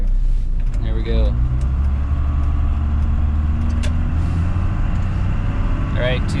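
A first-generation Cummins diesel truck with an automatic transmission runs under heavier throttle, its loud, steady low engine drone filling the scene while someone talks over it.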